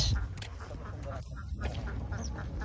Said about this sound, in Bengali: এখানে হাঁস